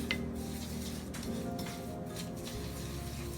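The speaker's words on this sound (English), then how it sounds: "Just mix it." Dry bread dough ingredients with sugar are stirred in a bowl, making soft, continuous scraping and clinking sounds at a fairly low, close level.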